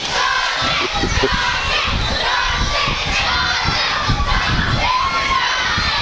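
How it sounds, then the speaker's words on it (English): Young fans cheer and shout continuously for Dawson at a school sports game, a loud dense crowd roar with excited yells throughout. "Fans cheering for Dawson."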